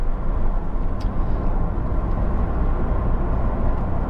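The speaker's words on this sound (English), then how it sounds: "Driving now at the legal limit, 60 miles an hour on the main road." Inside a Honda CR-V 2.2 i-DTEC station wagon cruising at 60 mph on a main road, a steady low road and engine rumble continues without a break and without talking.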